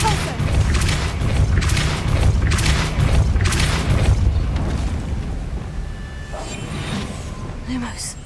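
A Depulso spell blast in Hogwarts Legacy lands as a run of loud booming bursts over roughly four seconds, then fades into quieter ambient game sound.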